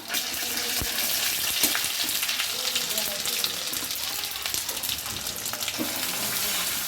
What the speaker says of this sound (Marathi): आता आपल्याला ह्या भाजीला छानपैकी फिरून घ्यायचे